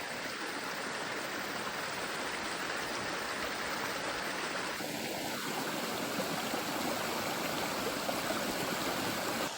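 A stream flows at a water source on a Big Sur hiking trail near Cone Peak, a steady close rushing of water with a single brief bird call partway through.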